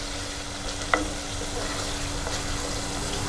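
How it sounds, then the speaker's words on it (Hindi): Spice masala being roasted in a pan, a faint, even hiss of frying with a single brief clink near the start, steady and quiet throughout, no talk. "देखें 10 मिनट हो चुके हैं मसाले को भूनते हुए"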